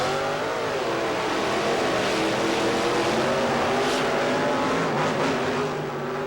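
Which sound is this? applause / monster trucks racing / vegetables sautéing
monster trucks racing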